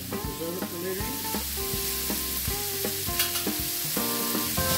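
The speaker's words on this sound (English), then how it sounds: "I like to cook the garlic just a little bit." Chopped garlic sizzling and frying in a pan while being stirred, a steady close crackle with scraping stir sounds throughout and no talking.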